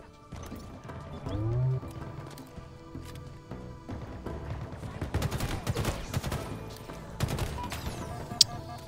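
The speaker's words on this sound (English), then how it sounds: "Those turrets are mad annoying." Turret gunfire in the Halo Infinite campaign: scattered shots and rapid bursts of automatic fire mixed with impacts and game effects, growing denser midway, with one sharp crack near the end.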